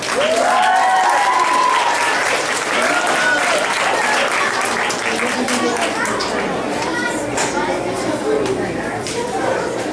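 A crowd at an elementary school graduation ceremony claps steadily and with force, and chatter and a few calls rise above the clapping.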